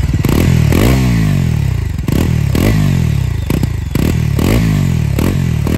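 Motorcycle fitted with a 400cc Dominar engine being ridden, its close loud engine revving up repeatedly with rising pitch between short gear-shift dips, no talk.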